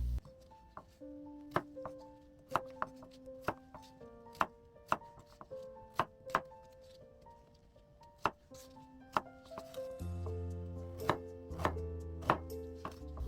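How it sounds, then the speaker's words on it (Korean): A knife slicing whole garlic cloves and ginger on a cutting board: sharp, distinct chopping knocks at an uneven pace, more than a dozen strikes, close and clear over a quiet background. "통마늘은 저며 썰고 생강도 저며 썰어주세요"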